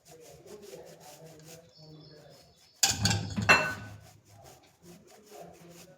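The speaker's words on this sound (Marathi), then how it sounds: "हे आपण गूळ किसून टाकून देत आहे" Jaggery grated by hand into a karvanda pickle, a short burst of coarse rubbing and rasping strokes lasting about a second in a quiet kitchen, with soft clinks around it.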